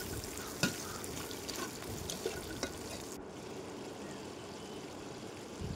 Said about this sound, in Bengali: এবার এর মধ্যে আমরা আস্তে আস্তে লবণ, হলুদ, লঙ্কা গুঁড়ো, জিরের গুঁড়ো, আদার গুঁড়ো, তেজপাতা আর গরম মশলা দিয়ে ভালোভাবে নাড়তে থাকবো।